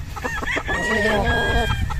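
A White Hatch gamefowl rooster crows close by at a gamefarm, one full raspy crow over clucking and faint background voices.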